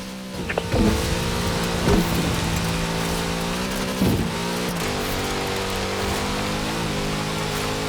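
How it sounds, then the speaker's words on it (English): A big Chevrolet engine in the Forza Horizon 4 racing game drones steadily at high revs, a loud continuous roar with slight pitch shifts and a few brief bumps, heard alone. "Such power in the big Chevrolet engine."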